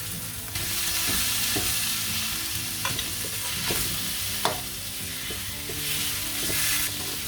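Minced pork hits a hot pan with chili and garlic, frying with a steady loud sizzle while a utensil scrapes and stirs in repeated clacks, no voices over it.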